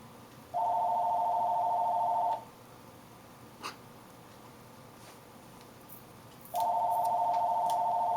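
A steady electronic tone from a telephone answering machine sounds twice, each beep lasting about two seconds with a long quiet gap between, clear and close over faint room noise and a single small click.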